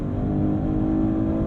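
Maserati GranTurismo Trofeo engine accelerating hard under full throttle, a steady, loud, dense low growl heard from inside the cabin, continuous for a moment with no voices.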